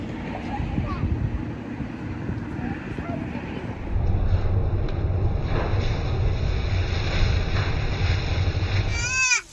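Strong outdoor wind buffeting the microphone near a food truck, a steady low rumble that grows heavier partway through, with faint voices underneath.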